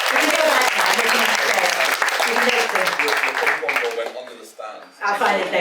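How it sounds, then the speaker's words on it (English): Theatre audience applause after a ping pong show: dense, loud clapping from a crowd with some chuckling, thinning and breaking up toward the end. "Give them all a round of applause."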